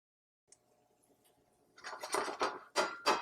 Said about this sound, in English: Minced garlic will clump easily, so just make sure that you stir it thoroughly.